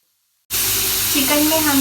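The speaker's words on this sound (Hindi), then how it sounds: "पैन लेंगे, उसमें 2 चम्मच ऑयल डालेंगे, स्लाइस में कटी हुई चिकन डालेंगे" Sliced chicken dropping into a pan with two spoons of oil, bursting into a loud, steady sizzle after a moment of silence, with a faint voice-like tone underneath.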